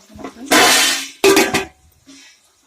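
A metal lid set onto a cooking pot of tomatoes, two loud clattering clanks a moment apart with ringing metallic tails, then quiet.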